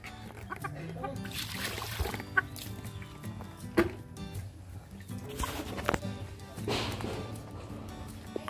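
Chickens cluck softly and intermittently nearby, with a few sharper squawks, mixed with low background voices and light handling noises.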